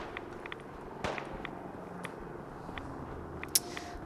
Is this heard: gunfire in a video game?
yes